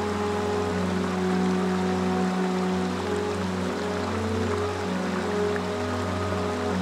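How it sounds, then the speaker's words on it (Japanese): Hot spring water pours down a waterfall at Onneto, a steady rushing wash of falling water with a constant low hum underneath and no pauses. "湯の滝は名前の通りお湯が滝となり流れています。"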